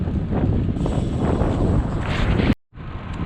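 Strong tailwind rushing over the microphone during a road bike ride west along Auburn Trail on a windy, cool Good Friday, a loud, steady roar of wind noise that cuts out briefly near the end before returning.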